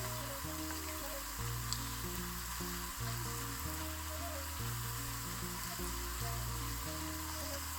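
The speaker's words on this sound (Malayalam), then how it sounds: "ഒന്ന് ഇത് ഇളക്കി കൊടുക്കാം." Pakoda frying in hot oil is stirred, and a continuous loud sizzle and bubbling run throughout, with a steady low hum underneath. No one speaks.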